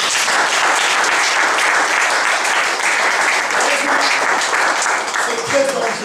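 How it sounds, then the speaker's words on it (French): A church congregation applauds and cheers in praise, a dense, loud, continuous wash of clapping and voices that holds steady throughout. "Est-ce que vous pouvez acclamer le Seigneur?"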